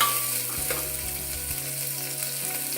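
A large onion frying in a pan, a continuous close sizzle with a low steady hum beneath and occasional light stirring, with no talk.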